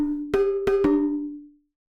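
A metallic, gamelan-like pitched sample triggered from a vintage 1980s drum machine strikes three times in an uneven rhythm, each bell-like hit ringing and decaying into silence, close and alone.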